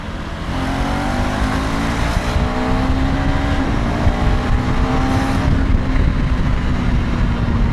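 Suzuki V-Strom 800DE motorcycle being ridden on the road, with a steady loud engine drone and shifting rising and falling tones under continuous wind noise, no talk.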